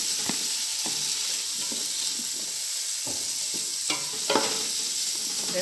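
Linguiça sausage frying in a pan, a continuous close sizzle broken by a series of scraping stir strokes, no talk.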